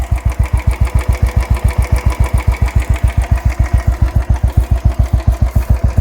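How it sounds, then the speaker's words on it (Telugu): Motorcycle fitted with a Red Rooster performance exhaust idles close up, a loud, steady, evenly spaced thumping beat with audible engine tappet noise, no voices. "సో ఐడిల్ అయితే ఇలా సౌండ్ ఉందన్నమాట"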